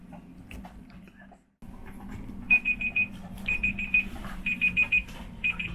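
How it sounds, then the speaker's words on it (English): Kitchen timer alarm on a sailboat beeping in quick repeated bursts of high electronic chirps, moderately loud over low background hum, with quiet voices and faint movement nearby. "The alarm's going off."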